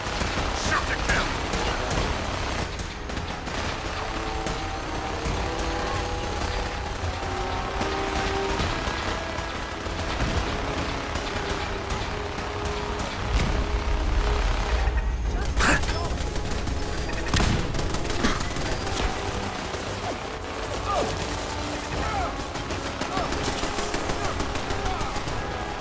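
Rapid bursts of gunfire fill a Fallout 4 firefight. Near, loud automatic volleys and single sharp shots repeat throughout, with scattered voices heard under the shooting.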